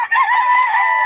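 A young rooster (stag) crows once, loud and close, in a single sustained call.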